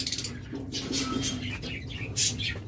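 Lovebirds at a bird farm chirp and tweet close by in short, bright bursts, with brief wing flutters among several birds in a busy, slightly noisy enclosure.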